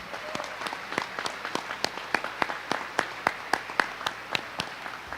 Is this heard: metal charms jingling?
no